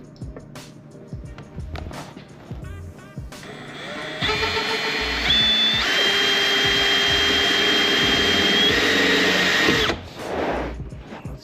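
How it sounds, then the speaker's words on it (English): A power drill with a step drill bit whines steadily for several seconds, its pitch rising as the bit bites through, then stops abruptly; quieter handling sounds before it. "So I'm gonna take this step drill and put a little hole right there."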